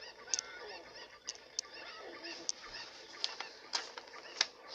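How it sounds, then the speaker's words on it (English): Several sharp squawking honks burst out one after another over a busy, cluttered bed of game noise: a flock of chickens attacking in The Legend of Zelda: Ocarina of Time. "Really, you're getting beat up by chickens."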